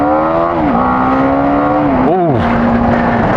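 A BMW G 310 GS adventure motorcycle accelerating on a test ride, its engine droning loud and close, pitch climbing then dipping at a gear change and rising again.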